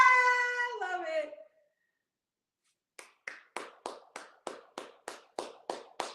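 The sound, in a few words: hands clapping, applause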